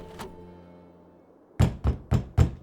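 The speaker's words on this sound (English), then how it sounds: "I went up and knocked on the door" Knuckles thud on a wooden door in five firm, evenly spaced knocks, close and loud, after a faint earlier tap and a low humming background.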